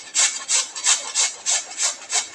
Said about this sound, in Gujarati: હવે આપણે તેને ખમણીની મદદથી છીણી લઈશું